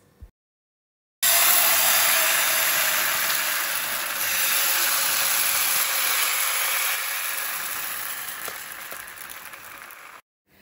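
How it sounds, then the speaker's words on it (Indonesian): Batter poured into a hot oiled Teflon pan sizzles loudly, a steady broadband hiss that starts abruptly, holds for about nine seconds with slight swells, then gradually fades before cutting off; no voices. "pastikan ketika kita tuang maka teflonnya itu bunyi ya, jadi berdesis"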